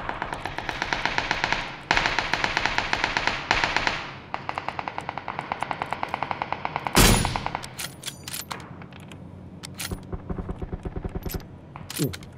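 A Vector submachine gun with a half grip firing in PUBG, rapid loud automatic bursts of tightly spaced shots, several long strings followed by shorter scattered volleys and impacts, with voices talking faintly under the gunfire.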